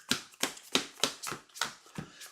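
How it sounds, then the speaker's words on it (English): Decks of playing cards being shuffled for a card game, seven crisp riffling bursts in a quick even rhythm, close and fairly loud with no talk. "We're going to shuffle our decks."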